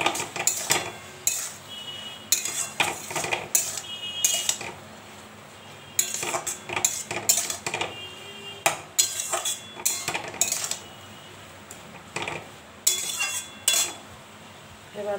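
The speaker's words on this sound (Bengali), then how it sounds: "এবার নাড়ব।" Kochur loti with coconut and prawns stirred in a pot, a utensil scraping and clinking against the metal in repeated bursts, close and fairly loud, with short pauses between strokes.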